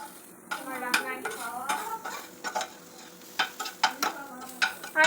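Fried vegetables, seasoned with oregano, are stirred and mixed in a pan with a utensil. Close, irregular scraping and clinking strokes against the pan come over a faint sizzle.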